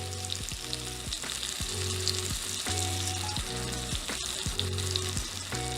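A frying pan sizzles steadily with tomato being prepared alongside, a dense close hiss broken by regular rhythmic thumps, and no talking.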